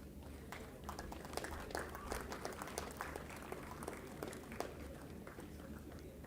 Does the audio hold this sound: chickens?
no